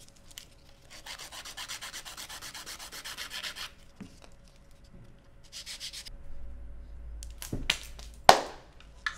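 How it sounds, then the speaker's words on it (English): Bursts of a buffer working a surface, a soft close whooshing rub in two stretches separated by a quiet gap, followed by a few light knocks and a sharp handling clatter near the end. "when you use buffer, try to use whole entire body of the buffer so your buffing is efficient and smooth"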